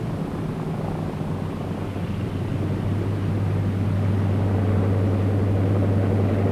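A C-47 tug plane roars steadily on takeoff while towing a CG-4A glider, its engine drone loud and continuous, deepening into a stronger sustained hum partway through.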